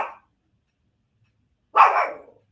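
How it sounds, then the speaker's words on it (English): A pet dog lets out two sharp barks, one clipped at the very start and another loud, close one after a silent pause. "My dog start barking."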